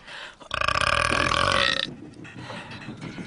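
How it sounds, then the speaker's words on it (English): A loud, drawn-out burp lasting over a second, rising abruptly and cutting off, followed by quieter background murmur. "That was a burp."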